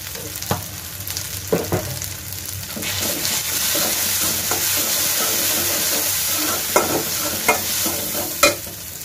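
Spice masala with turmeric and salt sautéing in oil for a mustard-paste sea fish curry, a steady sizzle under sharp spatula scrapes and taps against the pan, close and loud, no voices.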